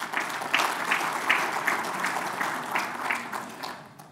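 A conference audience in Morocco applauds the secretary general, steady scattered clapping from many hands at moderate distance that tapers off toward the end.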